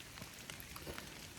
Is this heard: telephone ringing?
no